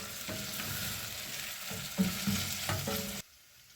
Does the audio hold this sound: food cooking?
yes